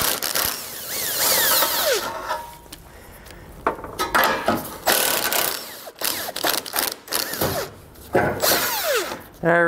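A power tool, likely an impact driver, spins off nuts during a trailer hitch install under a car, in repeated loud whirring bursts with clanking metal between them.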